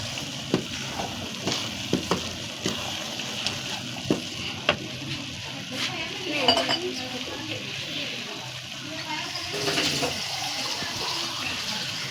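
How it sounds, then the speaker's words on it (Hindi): Egg and pea masala frying in a pan sizzles steadily throughout, punctuated by repeated clinks and scrapes of a spoon stirring against the metal. "अब हम इसको अच्छी तरह से भून लेंगे।"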